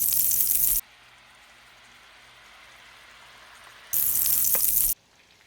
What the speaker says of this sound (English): Just browning it up a little bit, crisping it up, giving us some texture.